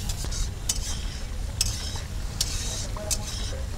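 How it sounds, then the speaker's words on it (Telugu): Tomato gravy for mutton kali mirch fries in a pan under a constant sizzle, with a spoon scraping and clinking against the metal about four times at regular intervals. "టమాటా పచ్చి వాసన పోయేంత వరకు బాగా ఫ్రై చేసుకోవాలి"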